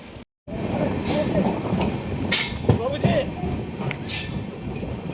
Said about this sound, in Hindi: हमारी ट्रेन 1 नंबर स्टेशन पे आई थी, तो सिग्नल हो चुका है।